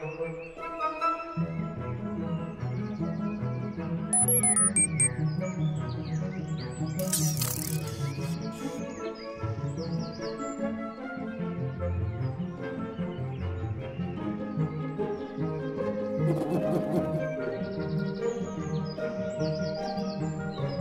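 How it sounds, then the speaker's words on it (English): Cartoon baby birds chirping in high, quick tweets over busy background music and sound effects. "I hear baby birds."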